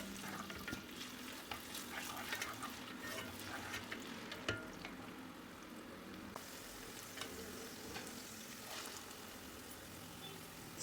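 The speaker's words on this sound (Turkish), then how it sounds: "Yüksek ateşte kavurma işlemine başlıyorum." Steady sizzling and crackling of onions frying in olive oil over high heat in a pot, with occasional clinks and stirring scrapes, continuous and close throughout.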